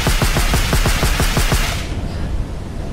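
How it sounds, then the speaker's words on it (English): Suppressed MK18 rifle firing in a first-person horror shooter video game, a rapid automatic burst of muffled, evenly spaced shots lasting under two seconds, then a fading tail. "So the MK18 silenced sound effect."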